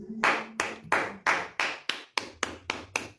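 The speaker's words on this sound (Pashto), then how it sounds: "ټول یو چکچک ورکړی" About ten evenly spaced, sharp claps ring out in a steady rhythm at a Pashto lecture, close and fairly loud with short decays, more like a single person's rhythmic clapping than a broad crowd ovation.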